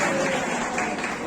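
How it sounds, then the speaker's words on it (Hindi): Brief burst of applause at a municipal retirement farewell ceremony, loud clapping from a gathered crowd with a faint voice mixed in underneath. "जोरदार तालियों से स्वागत"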